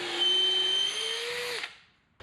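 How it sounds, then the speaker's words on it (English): Power drill boring holes for fasteners into white oak rootstock knees for a wooden boat, one steady close whine of about a second and a half that winds down and stops. "I'm going to be ready to drill for fasteners"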